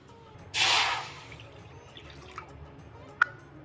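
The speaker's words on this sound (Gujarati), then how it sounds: "તો આપણે પાણી નાખી દીધું છે" Water is poured into a cooking pot for lapsi, a wheat-flour and ghee sweet, in one brief splashing gush followed by a few faint drips and taps in a quiet kitchen.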